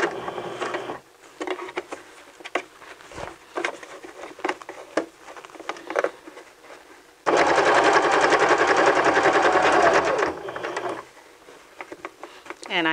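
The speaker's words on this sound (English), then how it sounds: "Lower your presser foot and continue stitching" Domestic sewing machine stitching along fabric during a beginner sewing lesson, with light intermittent mechanical patter and then a louder sustained run of rapid stitching for several seconds before it stops.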